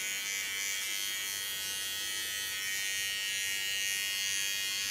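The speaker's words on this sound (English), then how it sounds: "Go over the line and set out with the large clipper." A large electric hair clipper cutting hair steadily through an asymmetric clipper cut, giving a continuous close, even buzz with a bright hiss and no pauses, alone without talk.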